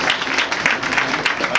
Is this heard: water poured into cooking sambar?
no